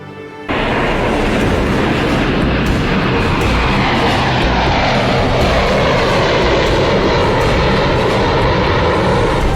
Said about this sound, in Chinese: 随着客机落地的巨大轰鸣声